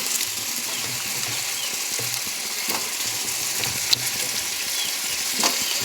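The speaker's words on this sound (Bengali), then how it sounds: "মশলাটা কষানো হয়ে গেছে, এবার আমি আলুটা দিয়ে দেব।" Cut potatoes go into a pan of spice masala that is already fried, and a steady close sizzle runs throughout with a few faint scrapes and clinks, with no speech.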